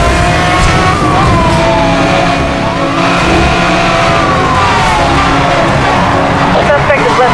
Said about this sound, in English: the suspect vehicle is traveling at high speed.